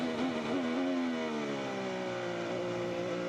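An IndyCar engine bouncing off its rev limiter at the Firestone Grand Prix of St. Petersburg, a steady high-pitched whine that wavers briefly and then drops in pitch, continuous and moderately close.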